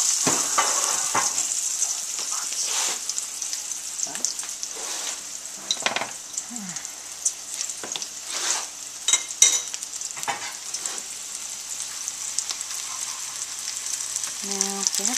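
Potato croquettes fry in hot oil with a continuous bright sizzle and bursts of crackling and bubbling, close up, with a brief clink of utensils near the end.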